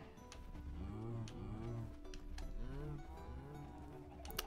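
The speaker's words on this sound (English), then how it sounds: "there are gonna be so many cows" Cows mooing in the Minecraft video game, several overlapping low bovine moos in succession, fairly quiet and close, with no speech on top.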